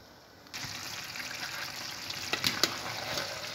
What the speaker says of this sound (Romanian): O lăsăm la foc mic să fiarbă liniștită